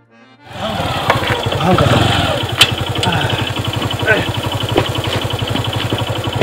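A motorcycle engine idles with a steady, fast mechanical putter close by, joined by brief clanks and scattered voices talking around it.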